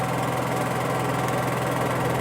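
A generator engine idles steadily, a close, even droning hum with a low pulsing throb that holds unchanged throughout, with no voices.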